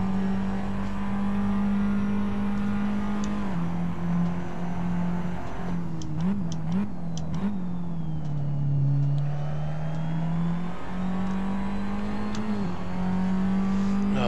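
Formula Abarth single-seater race car lapping the Sepang circuit, heard from onboard as a loud, steady engine drone whose pitch dips and rises through gear changes and braking, with faint clicks in the middle.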